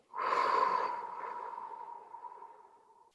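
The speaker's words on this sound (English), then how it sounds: "Exhale out." A person breathes out during a slow breathing exercise, a close, breathy exhale that starts strong and tapers off gradually over about three seconds, heard alone with no talk.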